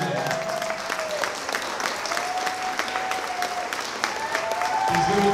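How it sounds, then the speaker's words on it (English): Guests at a wedding reception break into a sustained round of clapping, a dense, steady applause from a crowd close by, with a voice briefly heard over it. "We're gonna give him another round of applause."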